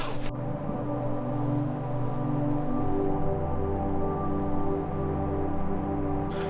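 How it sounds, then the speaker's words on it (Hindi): Light rain falls steadily on a surface while camping in the Swiss Alps near Lake Oeschinen in Kandersteg, a soft continuous patter close by with a low hum underneath. "अभी तो बारिश हो रही है हल्की हल्की।"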